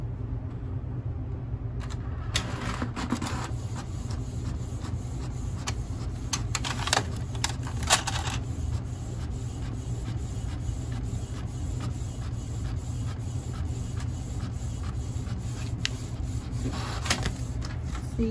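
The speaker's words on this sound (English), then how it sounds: "I'm gonna push print and hopefully it act right today." A printer in a home bakery prints an edible cake image, a steady mechanical whir and rub running throughout with intermittent clicks and feed noises, close and continuous with no voices.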